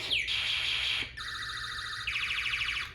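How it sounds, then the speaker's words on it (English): A Snap Circuits Extreme SC-750 kit alarm blares steadily, switching abruptly between warbling and rapidly pulsing beeping tones, loud and continuous with no talking. "The alarm's going to trigger, and it's going to make the Space War switch to the sounds very fast."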